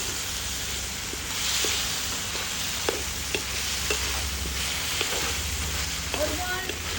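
A soy sauce mixture is stirred in a hot frying pan, with a constant sizzle and occasional light taps and scrapes of the spoon against the pan, steady and close.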